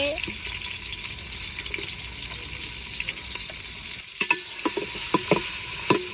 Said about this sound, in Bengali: পেঁয়াজটা ভালো করে ভেজা নিমো